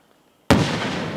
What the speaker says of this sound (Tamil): ஸோ இந்த ஸ்கை ஷாட்டுமே வந்து சூப்பராக இருந்தது. கோல்டு கலரில் நல்ல ஹைட்டு போயிட்டு வெடிச்சது.